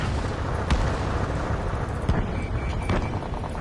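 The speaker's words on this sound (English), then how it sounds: "Gunfire and the roar of jets echoing through the streets." Gunfire and roaring jet engines in the Ace Combat 7 video game, a dense, steady wash of rumbling noise broken by a few sharp blasts, with faint voices beneath.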